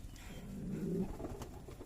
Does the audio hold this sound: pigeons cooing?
yes